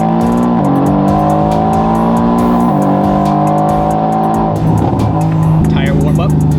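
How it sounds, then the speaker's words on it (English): A Mercedes-AMG GT S with about 800 wheel horsepower, on a street in Mexico, does a tire warm-up, its loud engine droning and revving steadily with shifting pitch while tires squeal near the end, under people talking. "Tire warm up."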